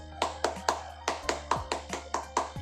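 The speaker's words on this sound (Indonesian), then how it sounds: "yuk kita ingat tepuk tangan anak soleh" Rhythmic hand clapping for the "tepuk anak soleh" children's clapping chant in an Islamic lesson: a steady pattern of about eleven crisp, close claps, mostly evenly spaced, over a low steady hum.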